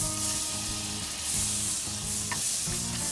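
Butter sizzling and frying in a hot pan, a steady crackling hiss with a brief clink partway through, preparing a ground beef, potato and vegetable dish.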